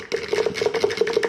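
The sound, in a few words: hand blender whisking egg yolk and oil into mayonnaise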